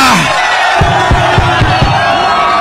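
A crowd at a Raila Odinga and Karua campaign rally in Meru roars and whoops loudly, with rhythmic bursts of cheering rising from a dense wall of voices.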